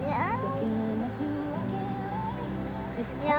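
A cat meows repeatedly in a string of rising and falling calls, close and fairly loud, with a person's voice running over them throughout.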